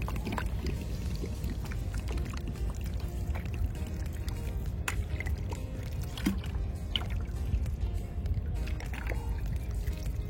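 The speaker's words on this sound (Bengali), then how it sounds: "চলো একটু জলই দিয়ে আসি" Water pours steadily onto garden plants in a continuous splashing stream, close and even, with a few faint knocks in the background.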